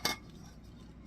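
A lid set onto a small ceramic nonstick frying pan gives one short, bright clink right at the start, then fades into quiet room tone.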